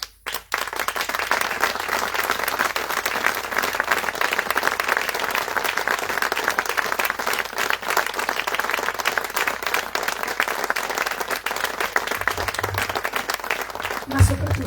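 Audience applause after a Sardinian choir performance in Romanzesu, Bitti, a sustained dense wash of clapping from a crowd that carries on evenly for many seconds, with a voice faintly heard near the start.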